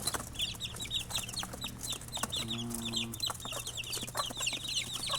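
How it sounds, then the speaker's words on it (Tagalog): Sixteen-day-old chickens cluck and peep together in a busy flock, many overlapping chirps carrying steadily over a low hum of background noise. "16 days na po yan. 16 days. Mga kamanok, yan po sila."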